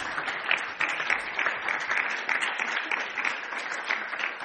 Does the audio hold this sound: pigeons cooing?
no